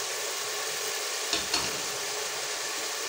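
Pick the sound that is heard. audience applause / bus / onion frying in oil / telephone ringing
onion frying in oil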